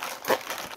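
Wrapping on a SaGa RS anniversary gift package crinkles in one short, close burst of papery rustling, with no voices.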